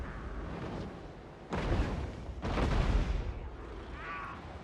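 Heavy artillery fire in Total War: Warhammer during a Clan Eshin campaign, with two deep booming blasts about a second apart over a low rumbling battle bed, then a fainter crackle.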